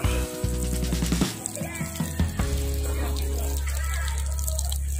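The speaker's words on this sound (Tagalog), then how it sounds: "Shower muna tayo guys, shower." Water pours steadily from an outdoor shower at a spring beside a beach in Mindanao. The hiss is continuous and close, with bursts of talk and handling noise over it in the first seconds.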